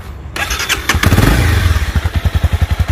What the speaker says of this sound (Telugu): సో మీన్ వైల్ ఒకసారి బండి ఎగ్జాస్ట్ నోట్ కూడా వినిపిస్తాం మీకు